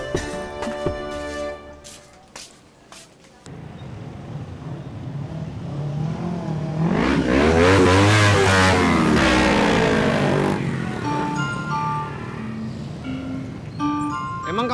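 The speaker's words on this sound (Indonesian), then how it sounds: "Emang kamu suka motor yang berisik gitu?" A loud motorcycle engine revs hard, rising from a low rumble into a sustained high-pitched roar that peaks midway and then eases off, after a few quieter sounds at the start.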